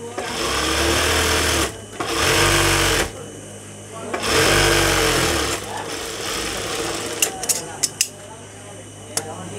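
An electric sewing machine stitches a petticoat in three long, steady runs separated by short pauses. Sharp clicks follow as the fabric is handled, and a person talks over the sound.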